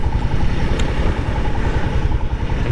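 A Honda trail motorcycle ridden on an English green lane, its engine thrumming loudly and steadily at close range with a low, pulsing rumble throughout.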